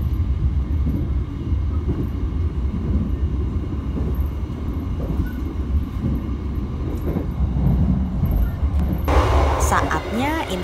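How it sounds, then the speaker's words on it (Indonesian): The Bengawan passenger train runs on after departing Kebumen station, a steady low rumble and rattle of rail travel heard from aboard, with a sharper brighter swell near the end. "kereta api Bengawan diberangkatkan kembali dari stasiun Kebumen"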